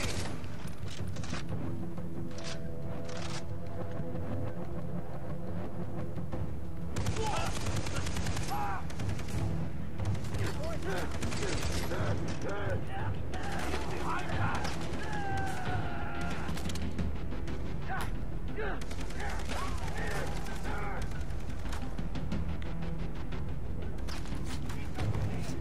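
In Far Cry 3 gameplay, gunfire breaks out in repeated bursts and rapid automatic volleys, loud and near, with occasional booms and crashes, while voices speak over the shooting.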